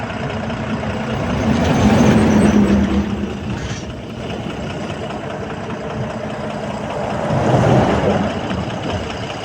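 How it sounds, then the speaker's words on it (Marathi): A car engine rumbles steadily from inside while driving to Jejuri in the evening, swelling louder twice and easing off in between. "पहा आमची गाडी, आमचा जेजुरीचा प्रवास."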